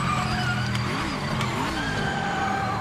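A race car in Project Motor Racing skids with its front wheels locked, a tyre squeal that bends in pitch over a loud, steady engine drone.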